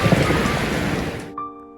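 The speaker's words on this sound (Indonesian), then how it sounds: "hujan pun turun begitu deras, bahkan disertai sambaran-sambaran guntur" Heavy rain pours down loudly and steadily with a dense, broad rush, cutting off abruptly near the end and leaving a faint tonal hum.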